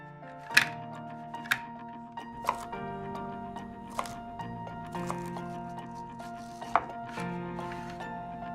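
Vegetables being chopped for a barbecue chicken chopped salad, with sharp knife strikes on a board landing roughly once a second at an uneven pace, close up and fairly loud over a steady background hum.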